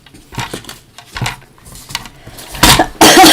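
A person with a cold coughs several times in a row, short rough bursts spaced irregularly and growing louder, the last one loudest and most forceful, with no speech between them.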